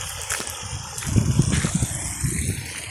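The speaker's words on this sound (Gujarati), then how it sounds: "આ બાજુ આપણે પાણી ફટાફટ આવતું જાય છે" Water rushing quickly from a motor pump into a flower farm field, a steady broadband gush with low churning pulses that swell midway, close and continuous.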